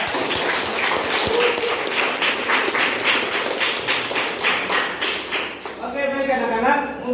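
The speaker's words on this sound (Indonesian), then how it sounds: "Beri tepuk tangan untuk Dayat." Classroom applause from students, a brisk, continuous patter of many hands at close range, lasting several seconds before stopping, after which voices carry on talking.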